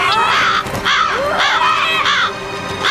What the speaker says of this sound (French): Vous avez vu tous ces corbeaux?